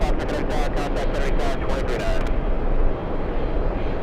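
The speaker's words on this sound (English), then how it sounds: "Emirates is flying downwind" An Emirates airliner flies downwind near JFK airport, its engine roar a steady broadband rumble heard from a distance, with wind buffeting the microphone in the first half.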